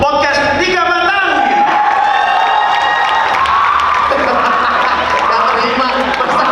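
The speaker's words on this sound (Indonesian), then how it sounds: "Beri tepuk tangan yang meriah untuk podcast 3 matang." A crowd at a podcast competition cheers and applauds continuously, with whoops, shouts and tonal voices layered over steady clapping, loud and close throughout.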